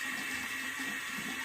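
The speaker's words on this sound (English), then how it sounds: "I just added a really large amount of water to the brush." Water runs steadily from a tap onto a shaving brush, a constant close hiss that continues alone without talk.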